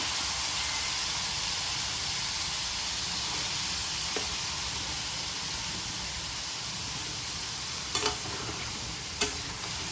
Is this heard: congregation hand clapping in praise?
no